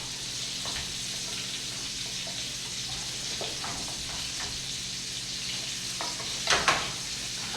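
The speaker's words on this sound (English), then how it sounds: "So I'm just sauteing up some shiitakes right here." Shiitake mushrooms sauteing in a pan, with a steady close sizzle and occasional stirring scrapes, with no talking.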